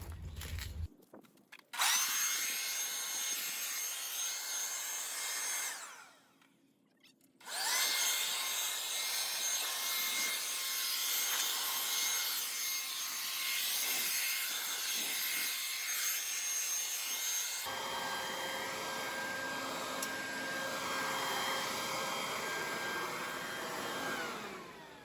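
A blower clears winter debris where a rug was removed in a yard, producing a loud, sustained roaring rush that dips briefly, surges back, and then shifts to a higher steady whine near the end.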